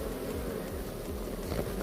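Honey bees hum around an open hive during a swarm being returned, a dense continuous low buzz at steady volume with no talk.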